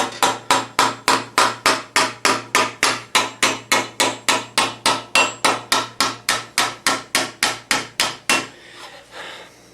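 Cross peen hammer striking a steel greave plate in an armour-making workshop, about thirty sharp ringing blows in a fast even rhythm, loud and close, then stopping, with no talk.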